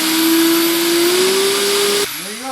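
Power drill boring through a thin metal pipe while building a tool box: a steady high motor whine rising slightly in pitch for about two seconds, then cutting off into a brief winding-down whir, close and loud.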